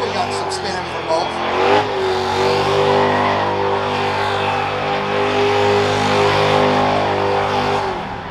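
A Mopar car at the Moparty 2020 burnout contest roars with a sustained, loud, revving engine note that holds steady for about eight seconds, with voices faintly underneath.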